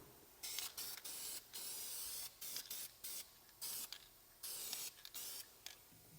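A thin coat is sprayed from a can onto faded plastic wiper arms of a C5 Corvette: a run of close, hissing bursts, each about half a second, separated by short pauses.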